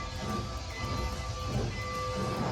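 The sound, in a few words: tourist train ride at Icon Park, Orlando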